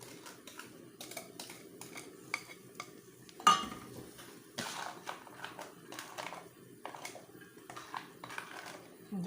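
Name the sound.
stirring pastry cream mixture in a pot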